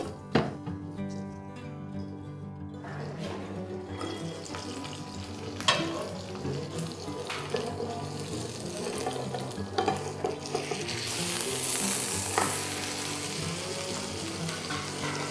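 Fish on a banana leaf cooks in a covered pan, giving a soft, steady sizzle with occasional clinks and knocks that builds into a fuller hiss toward the end, close and without speech.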